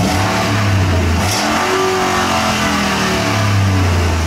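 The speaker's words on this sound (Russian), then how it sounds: "На машине переделана выхлопная система. Сделали разводку на две стороны, поставили насадки от джипа Grand Cherokee" A Ford Raptor pickup with a modified dual exhaust split to both sides and Grand Cherokee SRT8 tips, its engine revving loudly up and down close by, a deep throaty roar that rises, settles and swells again.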